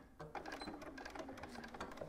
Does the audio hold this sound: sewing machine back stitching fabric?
yes